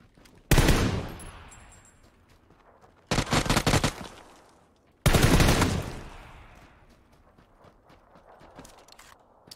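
Gunfire in the PUBG video game: three loud, close bursts of rapid automatic shots with short gaps between them, then a faint rumble trailing off.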